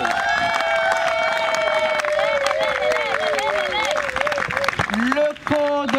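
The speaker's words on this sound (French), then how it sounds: "Si on peut les applaudir très, très fort" Guests at a civil wedding applaud the newlyweds: loud, dense clapping with cheering and excited voices, whoops and shouts rising over the crowd, close and continuous.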